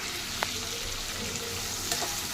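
Onion, drumstick and tomato frying in a hot tempering in a pan, giving a steady soft sizzle with a couple of brief stirring clinks; no talking.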